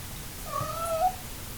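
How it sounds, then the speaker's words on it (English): A house cat gives a single drawn-out, wavering meow close by, with only faint background noise and no talk. "So if you can hear my cat"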